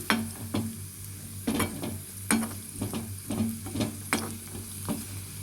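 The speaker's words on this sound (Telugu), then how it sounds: "జీడిపప్పు, ఎండు ద్రాక్ష, బాదం పప్పు అన్నీ వేసుకొని కొద్దిగా ఫ్రై చేసేసుకుందాం." Cashews, raisins and almonds frying briefly in a pan for sago payasam, with a steady low sizzle broken by repeated sharp stirring clacks against the pan, close up and with no voices.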